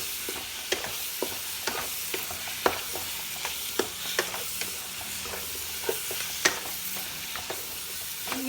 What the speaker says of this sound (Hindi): चिकन को बहुत अच्छे से हमने भूनना है।